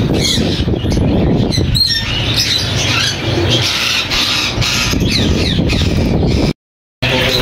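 White ringneck parakeets squawk at the Sunday bird market in Bahawalpur, a dense, loud and continuous chorus of harsh shrieks and chirps from many birds close by, cutting to silence briefly near the end.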